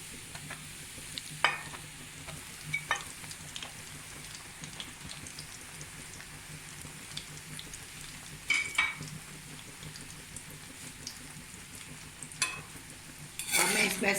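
Pieces of egg halwa fry in ghee with a continuous soft sizzle, punctuated by occasional spoon clinks and stirring scrapes, a louder clatter near the end.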